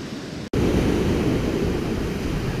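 Broad roaring wash of ocean waves breaking around a rocky coastal point, loud and close with wind rumble, after a brief cut near the start; no talk.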